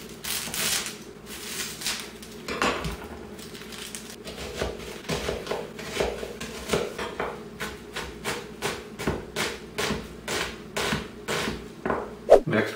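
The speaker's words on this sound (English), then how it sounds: "first we're going to peel and chop our 1/2 of a large onion" Half a large onion being peeled and chopped with a knife on a cutting board, a run of steady, evenly spaced chopping knocks that grows more regular toward the end, close and fairly clear.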